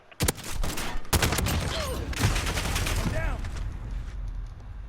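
Call of Duty Modern Warfare Rogue shotgun firing flamethrower-like fire rounds, booming in a rapid cluster of sharp blasts at close range followed by roaring, crackling flames, with someone talking over the gunfire.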